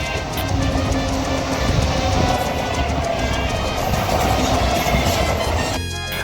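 A train rushes past on the railway near Bardhaman, a loud continuous rumble and rattle of wagons on the tracks that stays close throughout before cutting off.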